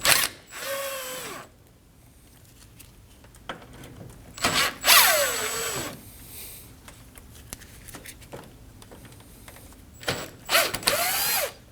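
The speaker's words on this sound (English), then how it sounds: "You can use a T20 Torx bit. Go ahead and remove the screws." A ratchet with a T20 Torx bit backs out screws on a driver's-side grille mounting bracket of a 2015-2024 Ford Edge, heard as three short bursts of rapid clicking separated by quiet pauses.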